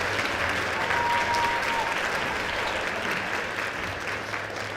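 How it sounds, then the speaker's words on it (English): A school band concert crowd claps in a dense, continuous burst of applause, holding steady and then easing slightly toward the end, with no voices over it. "Give them another round of applause for how awesome they sound."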